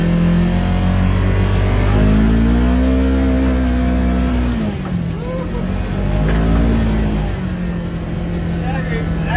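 Kawasaki Teryx KRX 1000 side-by-side engine drones loudly and steadily through a ride, its pitch rising and falling as the throttle eases off and picks back up, heard up close.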